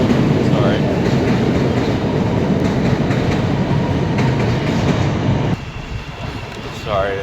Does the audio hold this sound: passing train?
yes